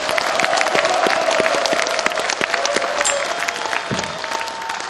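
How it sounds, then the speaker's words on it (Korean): Party members at a joint campaign speech rally in Daejeon give sustained applause, dense crowd clapping with sharp individual claps standing out, loud and steady before easing slightly toward the end. "뜨거운 박수 다시 한번 부탁드립니다"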